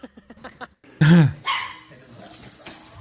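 A Newfoundland dog gives one loud, close bark-like yelp with a falling pitch, briefly after a few soft clicks, then fades into quieter room noise.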